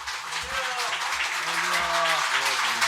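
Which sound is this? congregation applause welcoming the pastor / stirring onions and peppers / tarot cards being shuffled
congregation applause welcoming the pastor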